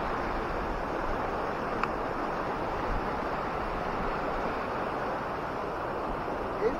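Fast-flowing river water at Kanhakund rushes steadily in a broad, dense roar, constant and fairly close throughout, with no voices.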